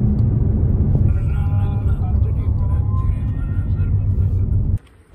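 Car cabin rumble while driving through the Panipat toll plaza, a steady loud low engine and road drone that cuts off abruptly near the end, with faint voices underneath.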